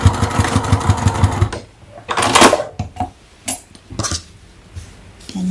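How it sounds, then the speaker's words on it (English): A sewing machine stitches a fabric overlap on a half-moon zip clutch, running in a fast rhythmic whir for about a second and a half, then stopping, followed by scattered handling clatter and rustles. "go ahead and stitch that in place so that it doesn't shift, using just 1/4 inch seam allowance"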